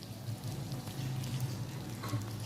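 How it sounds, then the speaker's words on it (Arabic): Creamy chicken with corn and black pepper in a pan, stirred over the heat, giving a faint, continuous sizzle with soft rain-like crackle and no talk. "هلا نحرك شوي عشان ما يخرب الاكل يتحرق"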